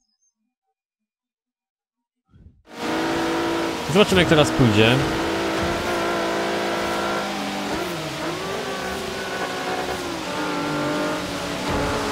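Nissan 370Z in Forza Horizon 3, racing in the rain: after a brief silence the engine starts droning, revs rise and fall through gear changes, and it holds a steady loud tone, with someone talking over it.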